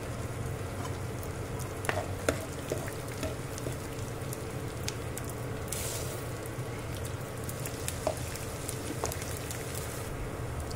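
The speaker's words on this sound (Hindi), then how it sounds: "ये देखिए हमारा गोंद अच्छे से फ्राई हो चुका है" Edible gum (gond) fries in hot ghee with a soft, steady crackling hiss like light rain, dotted with scattered small pops, fairly faint and close.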